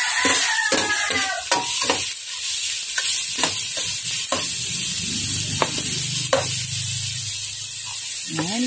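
Beef pares, kanto style, being stirred in a pot: sporadic scraping clacks of a utensil over a steady sizzling hiss, with a softer bubbling simmer in the second half.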